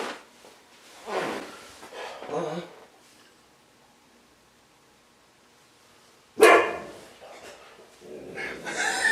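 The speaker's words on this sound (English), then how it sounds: "The dog just barked at a ghost or something" A dog barks indoors, a few sharp near barks in two bursts separated by a long quiet stretch with faint radio hiss.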